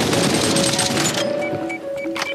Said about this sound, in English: they're shooting at you